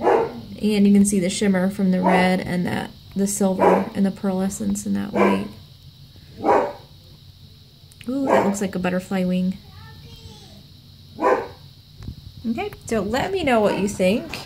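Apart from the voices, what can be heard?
dogs barking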